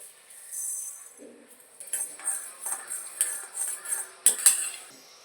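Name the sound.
fenugreek seeds being added and roasted in a hot kadai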